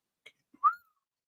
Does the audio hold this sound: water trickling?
no